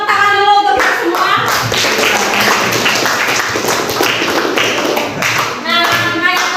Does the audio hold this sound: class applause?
yes